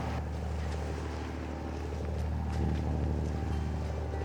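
A sailboat motors on the open Atlantic under engine power, with a steady low engine drone and wind and water rushing around it throughout.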